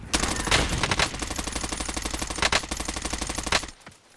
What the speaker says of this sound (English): Get down. We're taking fire.